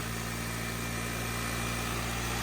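A 2004 Toyota Celica GT-S engine idles steadily with its air injection pump running, a constant mechanical whine and hum, running evenly without pauses, close by.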